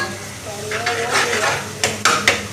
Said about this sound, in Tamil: இந்த இஞ்சி பூண்டு பேஸ்ட்டையும் நல்லா வதக்கிக்கணும்